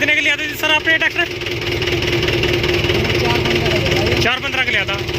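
A 2008 Mahindra 575 DI tractor engine idles with a steady, close mechanical chug and vibration throughout, while people talk over it.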